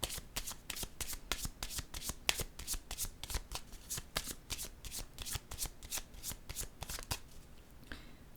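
Playing cards are shuffled and laid down in a quiet room, a close series of soft, regular riffling snaps repeating in a steady rhythm, faint overall.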